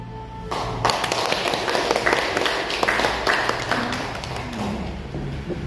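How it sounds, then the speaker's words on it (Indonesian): A school audience claps for a teacher's poetry reading, a dense, lively round of applause that follows a short spoken line and carries on for several seconds. "sekali lagi tepuk tangan"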